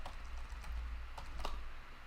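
Someone types on a computer keyboard, producing a handful of quick, faint key taps over a steady low background hum, with no talking.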